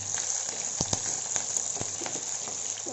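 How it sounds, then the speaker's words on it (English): Green chilies frying in a pan with cardamom and bay leaf for paneer pulao give a soft, steady hiss dotted with small crackling pops, close and moderately quiet. "Now I am going to add the green chilies and then fry them well."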